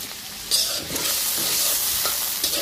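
Chicken gizzards and necks fry steadily in hot oil for a roast, with a dense, continuous sizzle and a few stirring scrapes close by, no voices.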